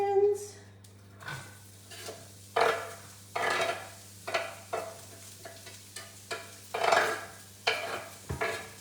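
Onions being stirred in an oily pan while cooking a beef lasagne, with spoon scrapes and knocks against the pan coming at a steady rhythm over a faint sizzle, close by and without speech.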